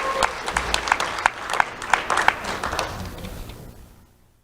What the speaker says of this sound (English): Round of applause for Riley and Galilea